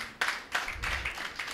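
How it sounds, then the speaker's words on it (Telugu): Thin, half-hearted clapping from a small audience at a live church gathering for pastors: a few sparse, faint claps spaced apart in a quiet room. "చప్పట్లు చప్పగా ఉన్నాయి."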